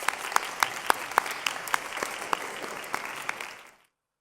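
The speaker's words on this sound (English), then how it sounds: "one more round of applause for our class representative" Audience applause at a graduation ceremony for the class representative: steady, dense clapping from a large crowd with a few sharp nearby claps standing out, fading out after about three and a half seconds.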